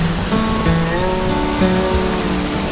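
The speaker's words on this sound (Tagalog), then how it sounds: "Pasyalan nyo rito mga kapadyak ang Edralin Falls dito sa Totot, Cebu, Nueva Vizcaya." Edralin Falls in Kasibu, Nueva Vizcaya, roars as a steady rushing wash of falling water, close and constant with no voices.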